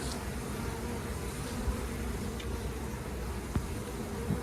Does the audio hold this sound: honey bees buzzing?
yes